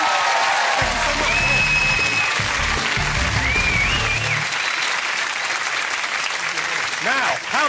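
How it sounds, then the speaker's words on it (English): A studio audience applauds steadily on a TV comedy quiz show, with scattered cheers and whoops mixed into the clapping, which fades slightly toward the end. "Round of applause, Matt and Mylene, everyone."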